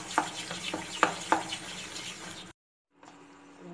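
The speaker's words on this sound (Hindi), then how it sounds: "हमने घोल में गोभियों को डाल के मिक्स किया है इस तरीके से।" Cauliflower florets being stirred into a pakora-style batter for gobi manchurian, giving a few close wet clicks and squelches of the spoon, then a short silence followed by faint kitchen background.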